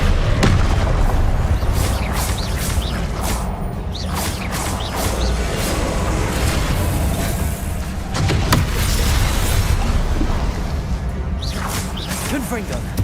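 Confringo blasting curse explosions in Hogwarts Legacy, a string of loud booming blasts with whooshing bursts landing close together, thick low rumble throughout and a voice speaking between them.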